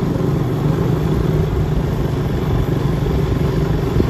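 An auto-rickshaw and motorbikes driving along a road give a loud, steady engine drone and rumble that continues without a break, heard close up.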